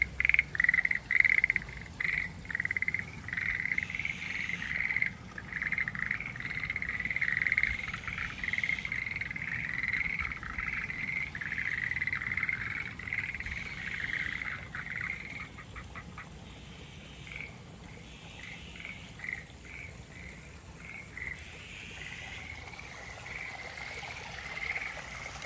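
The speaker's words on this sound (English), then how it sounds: "It's a frog symphony, but I can't see any of them." A chorus of frogs croaks without pause near Todoroki Ravine in Tokyo, a dense pulsing rattle over faint trickling water, heard at moderate distance for about twenty-five seconds.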